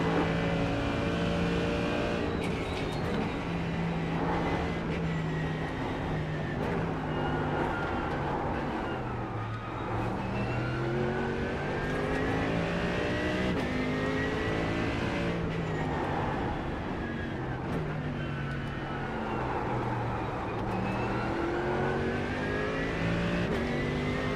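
Race cars in the iRacing sim game drone continuously with steady engine tones, rising and falling revs and gear changes through the whole stretch, loud and close with no talking.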